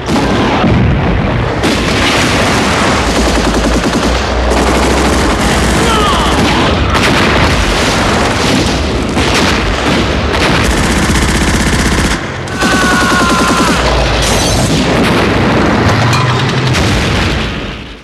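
Heavy battle gunfire in a Stalingrad winter battle: German anti-tank fire with rapid machine-gun bursts, loud booming cannon shots and explosions, dense and continuous at close range.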